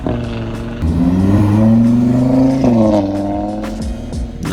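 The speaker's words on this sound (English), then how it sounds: "Gotta love the sound of an Audi." An Audi engine revs hard at a crowded car meet: a loud, close, sustained growl that climbs and holds in pitch for a couple of seconds, dips, then rises again before easing off.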